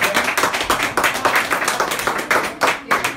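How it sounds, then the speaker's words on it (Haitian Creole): Audience claps warmly for a guest at an interview event, a close burst of quick rhythmic hand claps that keeps going for a few seconds. "merci John, on va t'applaudir chaudement pour te découvrir."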